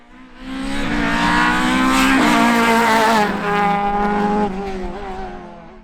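A Ford Escort rally car roars past at full throttle on a stage at Nutts Corner, engine revving high and changing pitch as it passes close by, with no voices.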